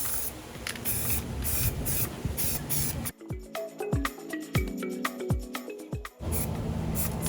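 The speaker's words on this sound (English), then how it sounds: "so I'm going to spray right over where we just went." Steady hissing spray of a baby blue spray paint can onto a mirror in long bursts, interrupted by a few seconds of light tapping and rattling before spraying resumes.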